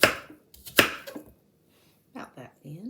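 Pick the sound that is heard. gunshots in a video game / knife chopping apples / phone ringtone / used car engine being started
knife chopping apples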